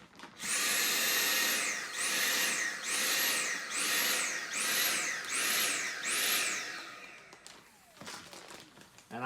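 A household vacuum cleaner whines loudly in seven rhythmic surges, its pitch rising and falling as it is pushed back and forth, then cuts off, leaving a few faint knocks and clatters.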